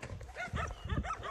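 Dogs at a livestock market in Saudi Arabia bark in a short, fairly distant, low-level burst of several quick woofs.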